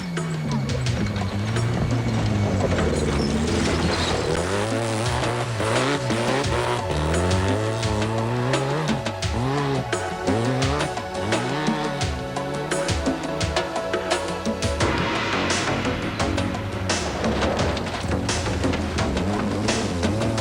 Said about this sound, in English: Here, Willie Island demonstrates his aggressive driving skills to make up for his recent unsuccessful